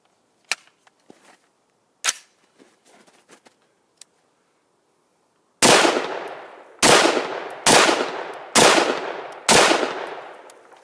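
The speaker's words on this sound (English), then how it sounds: "First shots out of a brand newly constructed rifle" First shots from a newly built rifle finished in Duracoat camo: five loud, sharp reports with ringing decay fire at roughly one-second intervals after a few faint clicks and handling taps.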